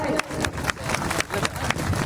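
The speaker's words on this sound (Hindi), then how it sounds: "जोरदार तालियों से स्वागत करें साथियों" Crowd applause welcoming guests at a tribal village fair gathering in a pandal: steady dense clapping through the whole clip with rhythmic sharper claps, a person talking over it.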